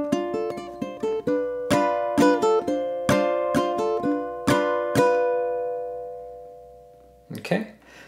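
Ukulele playing bars 9 to 12 of a waltz melody, opening with a hammer-on, a string of plucked notes ringing out and decaying, then a short voice at the end.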